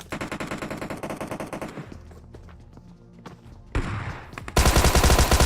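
Rapid automatic gunfire from the PUBG/BGMI game rattles steadily, then thins into scattered shots. A loud sustained burst follows near the end.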